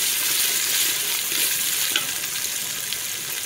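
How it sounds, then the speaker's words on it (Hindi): Ginger garlic paste with cumin and coriander powder frying in a pan, giving a steady, even sizzle that runs throughout at moderate loudness with no talking. "साथ में इसमें जीरा डाल दें, धनिया पाउडर ऐड कर दें और इनको भी भून लें।"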